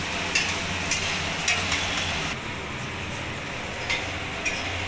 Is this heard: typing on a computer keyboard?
no